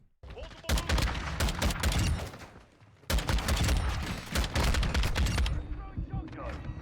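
Rapid automatic gunfire from Modern Warfare 2 multiplayer, two loud sustained bursts of dense rattling shots separated by a brief lull, with some game sound effects in the background.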